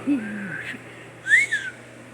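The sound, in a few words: person whistling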